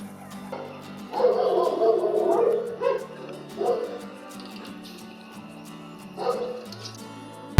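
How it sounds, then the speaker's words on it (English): A litter of two-day-old puppies whimpers and yips in short, high, overlapping bursts, close by, with a hum in the background and quieter gaps between cries. "And here are the puppies born 2 days ago."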